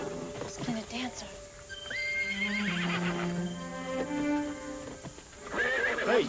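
A horse neighs loudly and repeatedly amid a tense, noisy TV action scene, with hooves clip-clopping and someone shouting over the whinnies.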